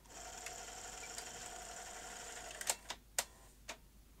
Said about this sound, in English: now the motor drive is being fed down to the loading rings